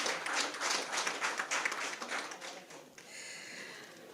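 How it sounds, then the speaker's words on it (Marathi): Audience applause at a literary award ceremony in honour of a Marathi writer, a dense wash of hand claps that rises and falls, then thins to a softer, steadier patter near the end; no talking. "ह्यासाठी नायगावकर सरांसाठी जोरदार टाळ्या झाल्या पाहिजेत"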